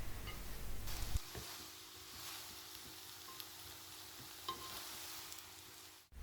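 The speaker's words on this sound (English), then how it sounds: "We stir the eggs until everything is perfectly combined." Eggs seasoned with black pepper and chili flakes frying and being stirred in a pan, a faint, soft sizzle with occasional light scraping taps, after a brief louder rumble at the start.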